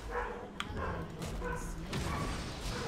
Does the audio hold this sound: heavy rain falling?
no